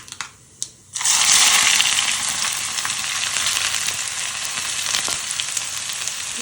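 Onions fry in oil with mustard seeds, dried red chillies and curry leaves for a tapioca dish. Quiet scraping comes first, then a sudden loud, close sizzle that holds steady with small pops.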